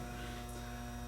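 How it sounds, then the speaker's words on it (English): Steady low electrical hum from the magnetic ballast of a 400 watt HMI metal halide work light, a constant buzzing drone with fixed pitch and harmonics, close and moderately loud, no voices. "I have my bright big 400 watt HMI metal halide light going."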